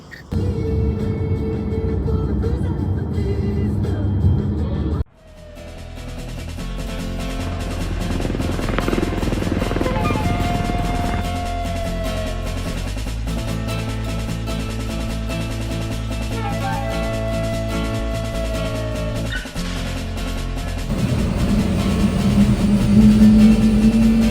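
A helicopter over the Grand Canyon gives a steady, loud engine drone that fills the clip, cutting out briefly then resuming with a continuous rotor-like hum and whine.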